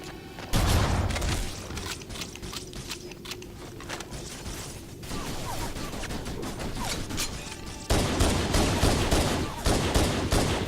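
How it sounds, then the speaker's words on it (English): Repeated shotgun blasts in the first-person shooter Halo: Combat Evolved, loud and close in dense overlapping bursts over a busy battle background, with a louder stretch near the end. "the shotgun makes fairly short work of them"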